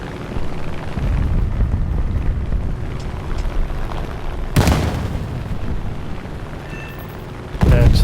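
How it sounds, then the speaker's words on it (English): Two small bombs detonating in the War Thunder flight game, each a sharp loud boom, the second at the very end, over a continuous engine drone. "Let's use the couple of smallest bombs here."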